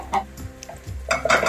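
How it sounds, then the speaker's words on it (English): Cubed chicken fillet drops into a hot pan for a Thai basil dish and gets stirred, with scattered clinks of utensil on pan and a louder sizzling burst near the end, close up, with no talking. "And then, you add your chicken."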